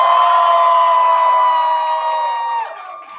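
An audience at a university event cheers for the first of two competing groups, a loud, continuous wall of shouting and whooping voices that holds steady for several seconds before easing off.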